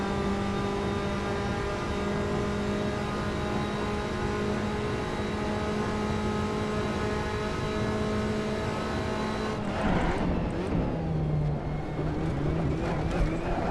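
Tatuus Formula Abarth single-seater race car in Assetto Corsa at Imola, a steady high-pitched engine drone held near, then a sharp drop as the revs fall and rise again through a gear change.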